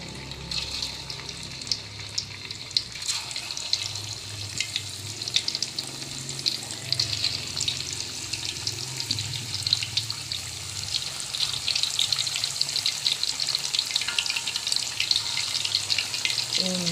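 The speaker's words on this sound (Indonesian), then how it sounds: "Kemudian kita lanjut untuk menggoreng tempe bacemnya tadi." Marinated tempe bacem fries in hot oil, giving a steady, close crackling sizzle that runs without a break throughout, with faint stirring and bubbling underneath.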